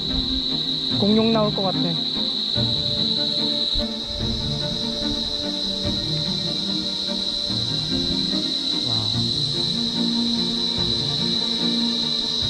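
Insects, likely cicadas, drone in a continuous high-pitched, steady buzz outdoors in Agnes Water, Australia, with a couple of brief bird chirps and a voice speaking briefly underneath.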